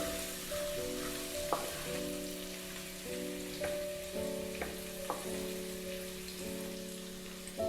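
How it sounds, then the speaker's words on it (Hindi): Green chili and other finely cut ingredients sauté in a pan, giving a steady hiss of frying under repeated utensil scrapes and taps every second or so, close and moderately loud with no talking. "इन सबको डालकर 30 सेकंड के लिए हम सौते करेंगे।"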